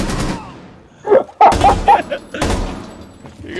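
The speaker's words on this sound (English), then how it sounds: "Hey, Trevor, can I shoot him?" Gunfire in the video game Rainbow Six Siege comes as a few loud, sharp bursts of shots with thuds between them, close and mixed with the sound of the game.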